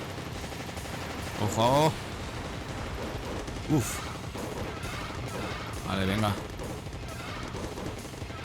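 Rapid gunfire bursts from the run-and-gun video game Contra: Hard Corps Uprising, with sharp shots and blasts popping over a dense game soundtrack while someone talks intermittently.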